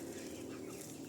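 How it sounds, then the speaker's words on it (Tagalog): Native chickens kept alongside pet ducks cluck steadily and close by in a short, continuous burst, with no talk. "Ibang manok ko na native mga tropan dito."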